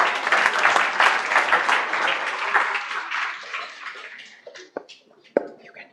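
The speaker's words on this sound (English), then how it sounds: "Please give them a big round of applause." An audience at an architecture conclave applauds the next speakers, with dense clapping that gradually thins out and ends in a few scattered, isolated claps.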